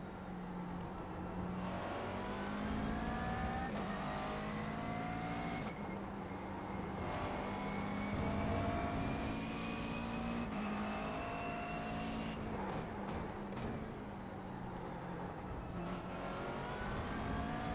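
A McLaren MP4-12C GT3 race car at Road America drones loudly and steadily, its engine note climbing through the gears in repeated sweeps, dropping sharply on each shift and braking, with no talk over it.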